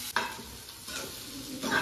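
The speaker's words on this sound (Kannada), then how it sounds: "ಆಲ್ಮೋಸ್ಟ್ ಫ್ರೈ ಆಗ್ತಾ ಇದೆ." Food frying in a little oil in a pan for a home-cooked dish, a soft crackling sizzle with light stirring scrapes, close and quiet, without talk.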